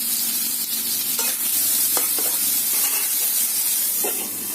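Sliced potatoes fry over low heat in a pan with salt, giving a continuous loud sizzle and hiss broken by a few soft stirring scrapes; no voices.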